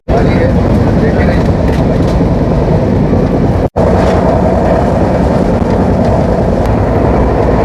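The MAS-LTT SF Express races along at speed through the hills near Lonavala, a loud, unbroken roar of wheels and rushing air that cuts out for an instant midway before resuming.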